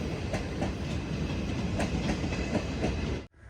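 The Mangaluru–Mumbai Matsyagandha Express, an LHP-coach train, rolls through Ezhimala railway station with a loud, steady rumble and rhythmic clickety-clack of wheels over rail joints, close by, ending abruptly.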